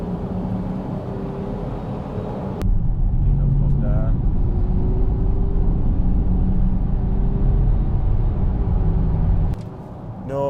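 A 3.0 TDI diesel car with a running problem roars under a sustained foot-down rev. The engine note is loud and steady for several seconds, then drops back to idle.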